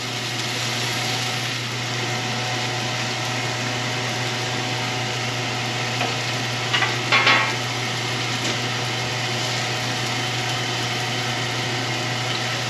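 Eggs and buttered bread, laid butter side down, sizzle on a Blackstone griddle in a steady, dense crackle and hiss, with a brief clatter partway through.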